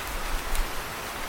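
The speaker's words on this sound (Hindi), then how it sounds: "जंगल में बहुत तेज बारिश हो रही थी।" Heavy rain falling in a jungle as a cartoon sound effect: a steady, dense hiss of downpour, even and continuous throughout with no pauses, no voices or other sounds.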